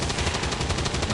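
Rapid gunfire in the strategy game XCOM 2: War of the Chosen, a loud, dense burst of automatic shots with a rattling, evenly pulsing rhythm across the whole second.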